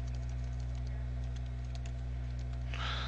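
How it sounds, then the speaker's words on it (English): Keyboard typing while coding a web page's HTML: soft, scattered key clicks sit faintly over a steady electrical hum, with a slightly busier patch near the end. "then I'll type in here"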